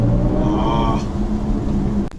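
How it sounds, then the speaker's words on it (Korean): A BMW i4 electric sports sedan (eDrive40 or M50) pulls away with its synthesized driving sound, a low humming tone that swells and sweeps upward, heard close inside the cabin and ending with a brief knock. "정말 멋스러운 감성으로 표현한 이 일렉트릭 사운드"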